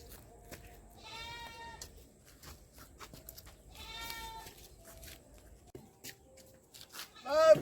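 A castrated goat bleats three times, each a short wavering cry, the last one louder and closer, over quiet rustling background noise.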